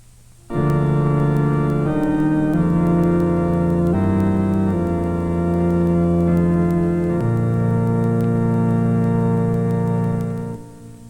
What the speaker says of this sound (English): Listen again. A full organ tone.